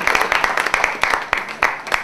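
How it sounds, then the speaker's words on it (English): An audience at a book launch applauds for the author, with sharp, fairly close claps in an uneven rhythm and voices audible underneath. "a round of applause for Mr. Richard St. John on his amazing book"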